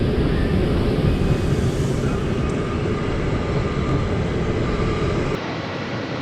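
A train at Geneva's underground station gives a steady, loud low rumble that carries for several seconds, then drops slightly quieter near the end. There are no voices.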